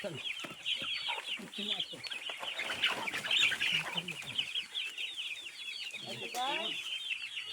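Chickens cluck steadily and overlapping throughout, a busy flock close by with some higher squawks mixed in, no talking.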